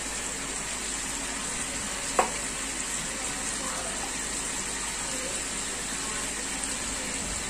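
Garlic paste frying in a hot pan gives a steady, even sizzle that runs throughout, with one brief clink partway through and no voices.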